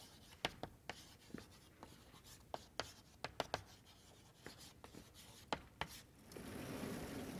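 Chalk or a marker writing on a board during a mathematics lecture, a series of faint, crisp taps and short strokes in an irregular rhythm, quiet and somewhat distant, followed by a soft steady rustle, with no speech.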